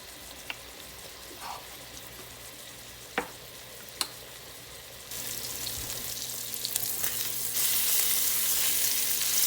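Chicken browning in a pot, a steady close sizzle and fry with a few sharp clicks of utensils, swelling louder and brighter partway through, no speech.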